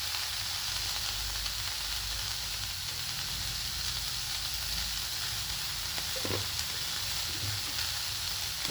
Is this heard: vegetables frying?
yes